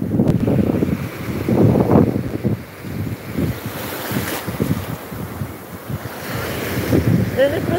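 Sea waves wash ashore at a beach in Odesa, a steady rolling surf with wind rumbling across the microphone, continuous and fairly loud throughout with faint voices in the distance.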